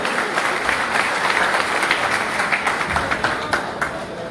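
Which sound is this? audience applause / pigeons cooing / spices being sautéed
audience applause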